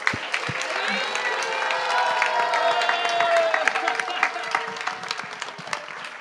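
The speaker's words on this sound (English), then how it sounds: "Big round of applause for Rasika Siromani" An audience at a parikrama gathering in Jaipur applauds in a steady, sustained wash of clapping, with a voice speaking over it through much of the clip.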